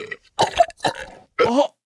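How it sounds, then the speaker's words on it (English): AI-generated men's belches and coughs come as three close, loud bursts: a short grunt, then two longer, gravelly belches split by a brief pause. "10 stupid guys belching and coughing."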